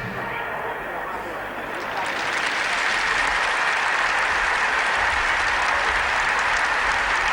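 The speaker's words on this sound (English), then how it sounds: "I think we can say that the applause they get has been well earned." A stadium crowd applauds children at the 1978 World Cup opening ceremony in Argentina, a broad, continuous roar of clapping that swells after two seconds and holds loud and dense to the end.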